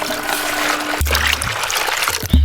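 Watermelon drink is poured from a container into a basin, a steady splashing stream that changes tone partway through and ends with a louder slosh, with no voices.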